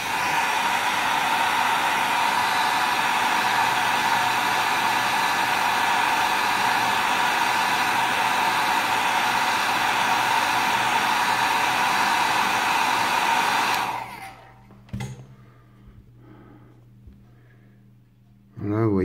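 A hair dryer blows loudly and steadily on a decal for a 1/24 Fujimi Ferrari F430 Challenge model car, a broadband roar that holds for about fourteen seconds and then cuts off, leaving faint handling noises.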